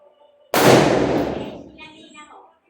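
A single sharp firecracker bang close by, followed by a long fading rumble and crackle, with faint voices before and after.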